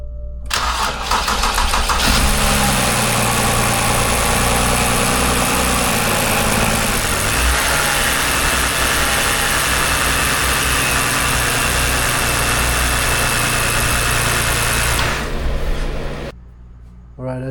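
A 2009 BMW 328i with rat-chewed wiring cranks and fires up, settling into a loud, steady idle that runs close and unbroken for most of the span before cutting off abruptly near the end.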